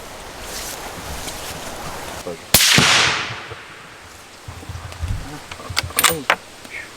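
One sharp, loud rifle-like crack at an outdoor shooting range in Sweden, with a rolling tail that fades over about a second, followed by muffled voices and small handling noises.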